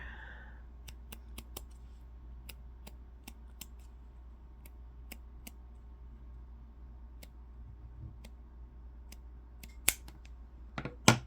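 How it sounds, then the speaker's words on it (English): Scissors snip through yarn while trimming a crochet row for a jar grip, giving a string of sharp, close clicks spaced irregularly over a low steady hum, with a few louder snips near the end. "So we're going to just trim this row here."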